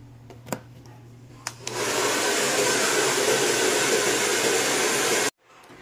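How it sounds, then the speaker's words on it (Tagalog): A hair dryer is switched on after a couple of soft clicks and blows hair steadily at close range for about three and a half seconds, then cuts off abruptly. "So, mag-blower muna tayo."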